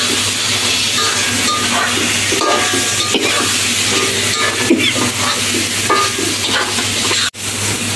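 Dried fish with potato for a Malabar spinach curry being stirred in a hot pan, a steady close sizzle with scraping spatula strokes throughout, ending in a brief pause.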